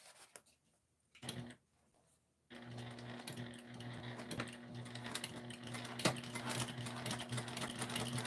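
A sewing machine runs steady top stitching on a clear vinyl tote panel, a continuous close mechanical hum and needle patter starting after a few brief bursts and short pauses.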